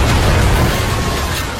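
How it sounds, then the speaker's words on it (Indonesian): A bomb planted on a bipedal combat robot detonates in the film Chappie, a loud, sustained roaring blast with heavy low rumble that holds for over a second before cutting off. "Dan akhirnya Moose pun meledak"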